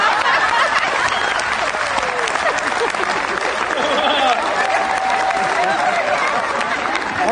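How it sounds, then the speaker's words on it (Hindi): An audience at a Hindi stand-up comedy show breaks into sustained applause, a dense steady clapping with some chuckles and crowd noise, while a voice speaks over it. "जो लोग ताली बजा रहे हैं"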